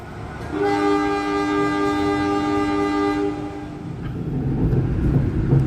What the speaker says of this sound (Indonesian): kereta api Tawang Alun akan segera diberangkatkan dari stasiun Kali Baru